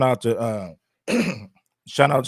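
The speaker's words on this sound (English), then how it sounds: "let me clear my throat real quick" A person clears their throat up close, three short voiced grunts separated by brief pauses.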